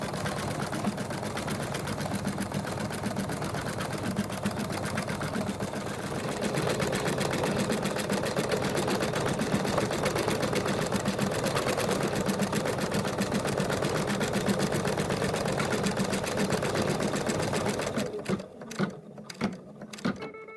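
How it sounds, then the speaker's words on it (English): An embroidery machine stitches the quilting across the middle of a fabric mug rug, whirring in a steady, rapid mechanical rhythm for most of the stretch before stopping and leaving a few scattered clicks. "now it's going to do the quilting in the middle"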